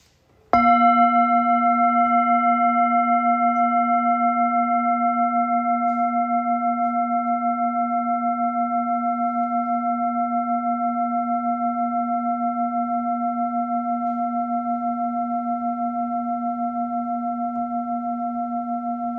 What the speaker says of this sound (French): nous commençons cette séance de méditation au son du gong qu'on pourra déjà écouter en pleine conscience